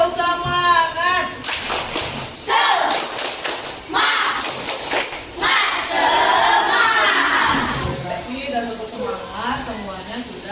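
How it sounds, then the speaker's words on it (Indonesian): A group of schoolchildren claps out the rhythmic 'tepuk semangat' spirit chant in a classroom, with sharp bursts of clapping mixed with voices chanting and a teacher talking between phrases. "Supaya lebih semangat, kita tepuk semangat dulu. Tepuk semangat."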